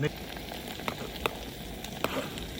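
Tomatoes and capsicum sizzling in a pan while cooking at a campsite beside a Renault Triber, a faint steady crackle with scattered small pops, quiet and continuous.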